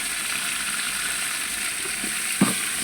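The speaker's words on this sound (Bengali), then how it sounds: "এটা কাঁচা গন্ধ যেন চলে যায়, এই জন্য ভালো করে ভেজে নিব।" Turmeric and chili powder frying in a pan, a steady, even hiss of oil sizzling, close and continuous, with a faint clink of stirring near the end.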